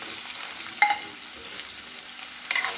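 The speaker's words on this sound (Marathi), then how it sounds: "छान हलवून परतून घ्यायचे." Onion and a garlic, ginger and coconut paste stirred and sautéed in a pan for a bitter gourd dish, a steady close sizzle with a few light clinks of the spoon against the pan.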